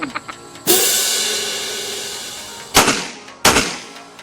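Rapid pistol fire from .45 and 9mm handguns at a firing range: one loud sharp shot with a long ringing decay, then two more close, hard reports a little under a second apart.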